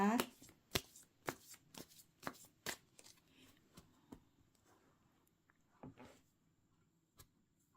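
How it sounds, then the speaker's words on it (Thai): Tarot cards being shuffled up close: a run of crisp slapping riffles and taps, dense at first and then spacing out into occasional single snaps. "ขอเป็นตัวแทน สับไพ่คนเกิดวันพระรหัสนะคะ"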